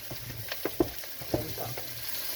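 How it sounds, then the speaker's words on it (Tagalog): Bitter gourd (ampalaya) sizzles and crackles as it is sautéed and stirred in a pan, with soft scraping strokes heard close up and no talking. "Gisa-gisa ko yung ating ampalaya ka-purple."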